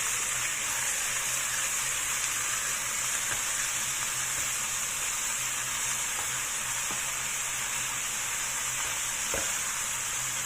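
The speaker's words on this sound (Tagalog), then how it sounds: "i-fry lang natin sa hanggang sa medyo ma-dry yung liver" Chicken liver fries in a pan with a dense, unbroken hiss of sizzling oil, loud and close, with a few faint taps over it.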